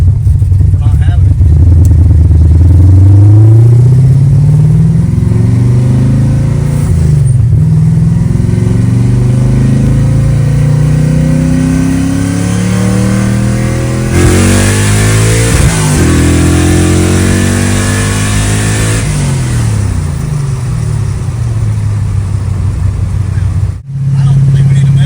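A tuned engine fitted with its air cleaner revs up and down repeatedly in loud rising and falling sweeps, close by, with a brief break near the end.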